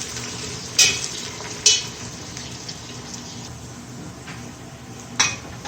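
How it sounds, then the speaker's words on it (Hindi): Sliced onions frying golden in oil in a pressure cooker, a soft steady sizzle with a few sharp scrapes of stirring, close and fairly quiet, with no talking. "ये प्याज लंबाई में काट लें और इनको गोल्डन फ्राई करते हैं।"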